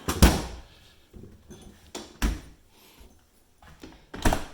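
A kitchen drawer for drinks in a house's kitchen is handled, giving several separate thuds and sliding knocks, close and moderately loud, spaced out with quiet gaps and no talk.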